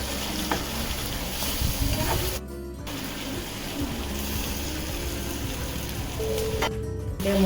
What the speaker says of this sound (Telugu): మెల్లగా ఫ్రై చేసుకోవాలి.